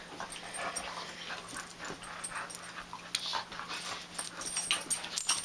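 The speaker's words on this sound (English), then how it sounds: "dogs fighting, as usual" Huskies playing and fighting indoors on a very cold day, with close, busy yips, whimpers, growly snarls and panting in irregular bursts that build louder toward the end.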